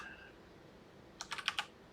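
A quick burst of five or six crisp keystrokes on a computer keyboard, close and fairly quiet, follows a short stretch of near silence.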